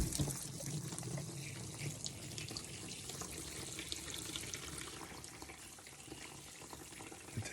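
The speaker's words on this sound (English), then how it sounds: "This is going to expand a lot when I add water to it." Water runs from a tap or hose into a bin of dry coco coir, a steady faint splashing and trickling stream that continues unbroken for several seconds with no talk.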